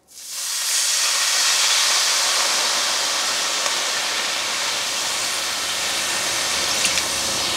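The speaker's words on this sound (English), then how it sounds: "I'm gonna add in about a cup of white wine" White wine poured into a hot skillet bursts at once into a loud, broad hissing sizzle. The hiss stays close and steady for several seconds, with no talking over it.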